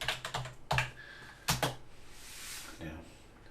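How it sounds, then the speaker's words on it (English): Computer keyboard typing in irregular bursts of sharp clicks and clacks, close and fairly loud, with pauses between flurries. "I do apologise about the typing, but it needs to be done."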